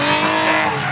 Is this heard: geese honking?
no